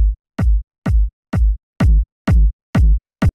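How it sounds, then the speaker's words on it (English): A punchy, fat tech house kick drum sample with saturation repeats eight times at an even tempo, each hit a loud, deep, booming thump with a short decay and silence between. "So here's the kick sample. You can see it's just like this punchy, fat kick."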